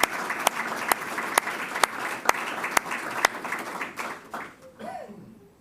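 An audience at a Town of Brighton Hispanic Heritage Month commemoration gives a round of applause, brisk clapping from a roomful of people with a few sharp claps standing out, fading out near the end as a voice begins.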